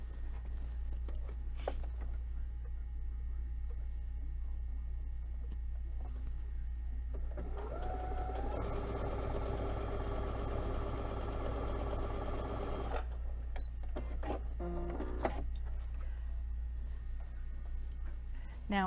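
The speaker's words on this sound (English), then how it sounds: "I'm just going to sew this one along here" Sewing machine stitching a seam on a scrappy sashiko zipper pouch, a rapid steady mechanical whir for about five seconds in the middle, set against a low constant hum with faint handling noises around it.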